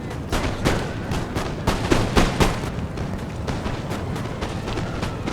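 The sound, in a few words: musket fire from infantry square in Napoleon Total War video game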